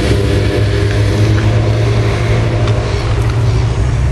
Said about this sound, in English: there's a little speedboat out there